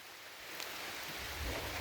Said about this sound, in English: Yeah, we gotta go in. It's raining,